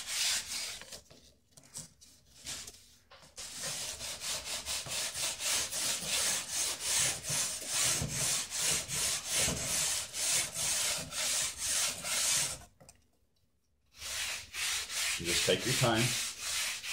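Wood is sanded by hand at a 45-degree angle in a steady run of rhythmic back-and-forth rasping strokes, close and clear. A short pause breaks the strokes before sanding resumes, and a voice speaks briefly.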